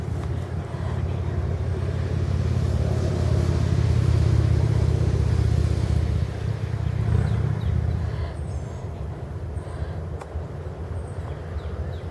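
Cars roll past on a road during a walk with a corgi named Dozer, a broad low rumble swelling near the middle and fading, with faint distant engine noise and occasional background sounds.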